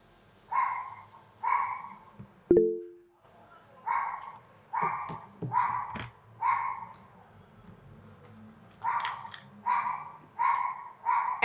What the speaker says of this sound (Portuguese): agora apareceu um cachorro